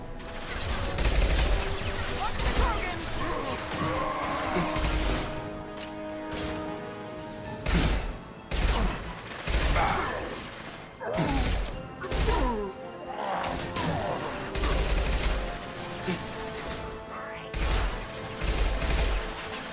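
Rapid, loud gunfire from a weapon in Mass Effect 2 rattles in repeated bursts over dense game combat noise, with crashes and impacts mixed in throughout.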